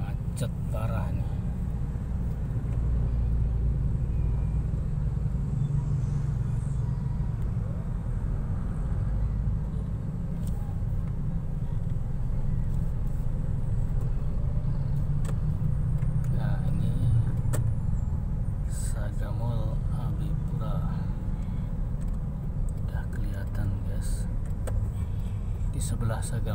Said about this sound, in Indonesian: Macet parah nih.